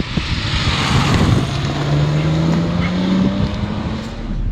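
Inside a BMW 525 E12 with its 2.5-litre inline six-cylinder engine, a loud continuous cabin drone rises and falls steadily as the car drives, with no speech over it.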